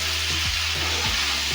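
Ridge gourd and potato pieces fry in a little spiced oil, a dense, close, continuous sizzle with a few soft stirring scrapes underneath.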